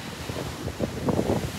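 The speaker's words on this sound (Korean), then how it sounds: "파도 미쳤어" Ocean waves surge and wash onto an Australian surf beach in blustery weather, a loud rolling rumble that swells and breaks in uneven pulses, mixed with wind buffeting the microphone.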